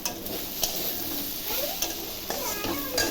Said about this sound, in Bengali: পেঁপে আলুটা ভাজা ভাজা হচ্ছে